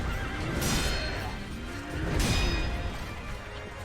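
A horse in the video game Sekiro: Shadows Die Twice whinnies twice, loud and close, each neigh a bright rising-falling cry over a background rumble and clatter of hooves.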